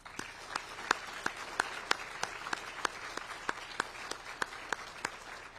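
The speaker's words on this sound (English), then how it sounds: "I'd like to all give them one more round of applause" An audience applauds at a modeling and simulation Hall of Fame ceremony, steady crowd clapping with a few sharp, loud claps standing out in a regular rhythm throughout.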